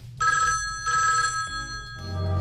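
A telephone rings in two loud, clear electronic bursts, close by, with a low background hum underneath and no talk.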